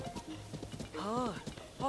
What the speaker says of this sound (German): dann müssen wir uns halt per Pferd jetzt fortbewegen